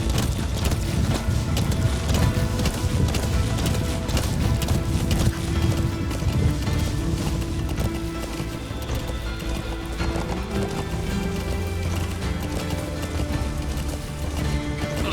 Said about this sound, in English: the horse handles this really well